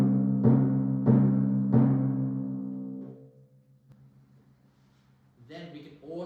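A timpani rings out with three resonant strokes whose pitch rises as the foot pedal is pushed down, then decays into quiet before a voice begins speaking.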